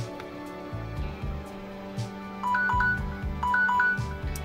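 An old cell phone used as a two-minute timer goes off with a short electronic melody of repeated beeping tones, two brief bursts over low background noise during a nail care routine.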